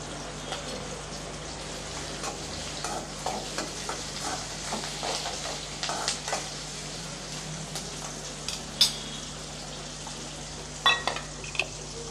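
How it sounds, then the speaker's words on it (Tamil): Onions, garlic and dried red chillies sauté in oil with a soft, steady sizzle, broken by irregular scraping and tapping from a stirring spoon, plus a few sharper knocks near the end, heard up close with no speech. "இப்போ வெங்காயம் பூண்டெல்லாம் நல்லா வதங்கிடுச்சு"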